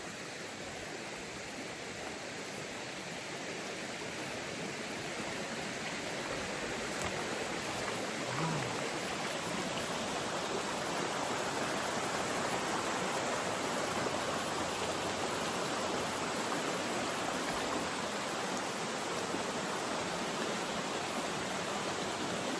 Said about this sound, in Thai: เป็นจุดน้ำตกที่ผมเคยมานั่งพักเหนือเมื่อก่อน